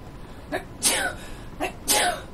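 Two sneezes from one person, close and fairly loud, each opening with a short sharp intake before the burst, spaced about a second apart.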